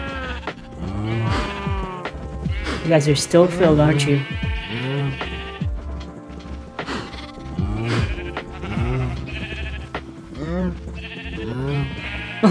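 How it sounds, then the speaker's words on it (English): Several Minecraft sheep give wavering bleats close by, overlapping one another while a person talks over them. "Got a lot of sheep. We got a lot of sheep."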